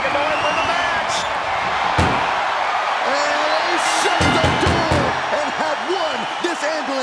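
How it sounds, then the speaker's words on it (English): An ambulance door slammed shut during a WWE 2K24 ambulance match, heard as several sharp, loud bangs over a roaring arena crowd, with commentary talk running throughout. "trying to close the second door for the match"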